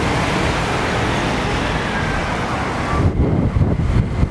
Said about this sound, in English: Wow, that wind is strong today.